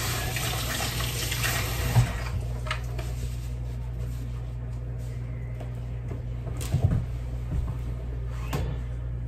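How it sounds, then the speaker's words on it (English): Running tap water pours steadily into a sink while egg is washed off hands, a continuous close splashing hiss with a few knocks and clatters partway through. "Now let me wash off this egg off my hand."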